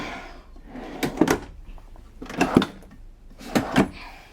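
Drawers in a 2022 Keystone Cougar 29MBS RV are pulled open and pushed shut, giving three pairs of sharp sliding clacks at steady intervals, close and clear with no talking.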